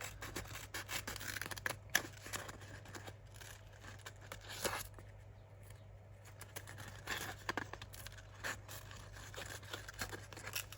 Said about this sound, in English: These Tim Holtz scissors do not like a sticky back plastic.